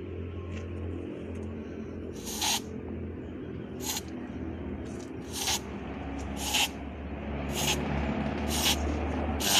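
A hand sprayer hisses out a homemade miana-based pest control formula onto citrus plants in a garden, seven or eight short bursts at irregular intervals over a steady low outdoor rumble.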